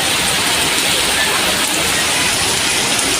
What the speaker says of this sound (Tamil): அரை மணி நேரத்திற்கு மேலாக பெய்த மழையால் இதமான சூழல் நிலவியது